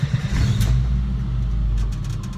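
Subaru Kombi with a fresh EJ20 engine running while driving, a steady loud low rumble with wind noise heard from a phone clamped to the window.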